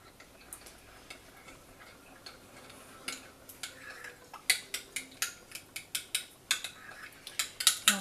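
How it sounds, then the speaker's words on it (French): A utensil stirs a vinegar mixture in a pan, starting quietly and then becoming a brisk run of sharp metallic clicks and taps in a quick, regular rhythm, close and alone. "donc je mélange"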